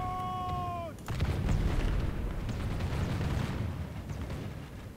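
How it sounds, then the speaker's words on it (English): Grapeshot artillery fire in a Warhammer strategy video game, a sudden loud blast followed by a sustained rumbling barrage, after a short rising tone at the start. "Let's put a bit of grape fire shot on."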